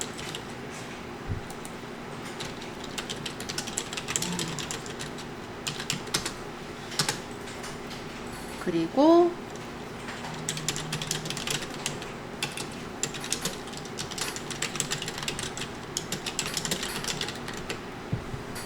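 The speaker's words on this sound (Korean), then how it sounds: "지금 팔 상품이 만약 노란 꿀벌 푸우 인형이면 여기다 타이핑을 하겠죠" Keyboard typing as a product name is entered while listing a yellow bee plush toy on a Naver mobile Smart Store; steady clicking keystrokes run throughout at close range, with a brief tonal blip midway.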